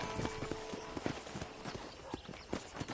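Horse hooves clip-clop at a steady walking pace in Red Dead, soft and somewhat distant against a dense, noisy background.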